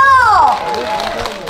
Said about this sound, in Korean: 박수 많이 보내주신 거죠?